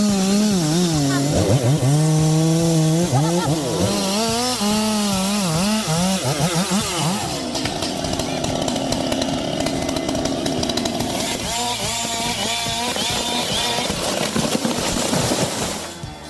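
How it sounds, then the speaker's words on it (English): A Stihl MS 881 chainsaw fells a large Trembesi tree near high-voltage power lines, its loud engine whining and swooping in pitch before settling into a steady, continuous cutting drone, with no talking. "With the steel MS-881, they made impressive work of it."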